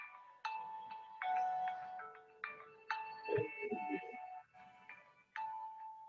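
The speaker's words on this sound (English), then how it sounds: "Somebody's phone is ringing." A mobile phone ringing during a classroom coding session, a repeating electronic melody of bright tones in short phrases, moderately distant, with a brief muffled thump partway through.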